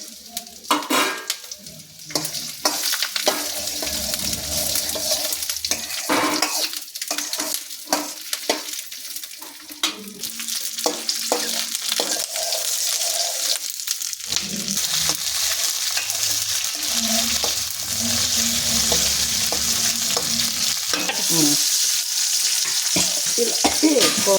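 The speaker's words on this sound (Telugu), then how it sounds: "ఇప్పుడు నూనె వేసుకోవాలండి మిరపకాయలు వేపుకోవాలండి" Dried chillies fry in hot oil for coconut pickle, giving a continuous close sizzle and crackle. A utensil scrapes and stirs against the pan again and again throughout.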